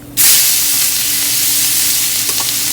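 Mustard seeds, asafoetida and garlic land in hot oil with a sudden loud sizzle that holds steady and bright throughout, with faint crackles near the end.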